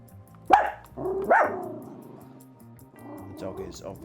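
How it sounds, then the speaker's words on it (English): A dog barks outside, two sharp barks close together followed by quieter grumbling, with people talking faintly behind it. "The dog is obviously put out by developments outside."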